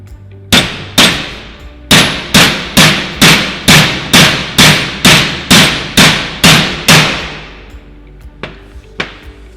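A metal pin is hammered through aligned holes while a base piece sits inside a retracting case during assembly of a surface-type HO head: about fourteen sharp, ringing metallic strikes in a steady rhythm, loud and close, followed by a few lighter taps.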